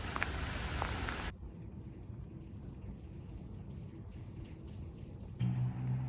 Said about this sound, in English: Beautiful rainy day.